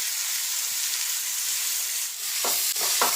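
Onions sizzling in a hot pan for prawn biryani, a constant bright frying hiss with a few stirring scrapes near the end.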